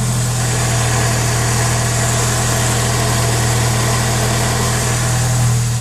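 A 1986 Ford Mustang SVO with a turbocharged engine idles steadily, a constant low droning rumble with a strong low hum, close and loud, with no talk over it.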